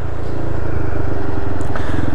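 A Peugeot Ludix 50cc scooter engine idles steadily up close, a continuous buzzing putter with light rattles and no voices.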